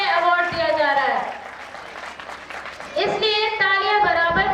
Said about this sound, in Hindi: इसलिए तालियां बराबर बजाते रहे।